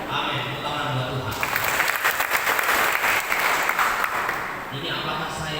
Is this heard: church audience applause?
yes